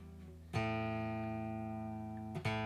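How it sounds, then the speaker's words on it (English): Tuning a Donner DST-100 electric guitar, one string is plucked and left to sustain with a slow, even decay, then struck again just before the end, heard up close and with no talking. "Once I've tuned the guitar up"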